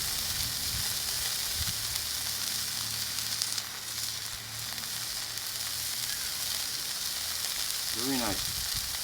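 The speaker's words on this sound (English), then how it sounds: "So, solo stove, tripod grill burgers." Burgers sizzle on a Coghlans tripod grill over a Solo Stove Ranger wood fire, a steady crackling hiss with occasional pops and a few brief faint sounds.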